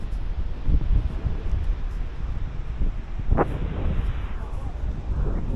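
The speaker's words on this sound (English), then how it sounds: "we've got a moderately strong westerly wind" A moderately strong westerly wind at Cape Reinga buffets the microphone in continuous low rumbling gusts, with a brief sharper burst partway through.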